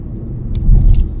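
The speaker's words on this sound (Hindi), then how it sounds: "और खूबसूरत रोड पे चला रहे हैं गाड़ी।" A car drives along a scenic road in Kerala as a hilly stretch begins, giving a steady, low rumble of engine and tyres that swells slightly near the end, with no talking.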